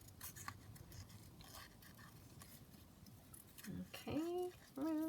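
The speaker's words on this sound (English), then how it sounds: "watching me cut out a flower" Scissors cut out a paper flower in a quiet room, giving a run of soft, close snips and rustles of paper, with brief tonal sounds near the end.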